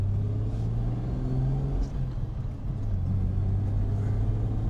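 A 1992 Toyota Land Cruiser 80 series 4500GX pulls away gently in gear, with a steady low engine drone and rumble rising slightly as it accelerates. The sound is close and continuous, with no talking.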